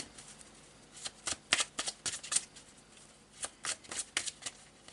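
Marseille tarot cards shuffled quickly by hand, a run of crisp riffling bursts and flicks in irregular clusters, fairly close and alone with no talk.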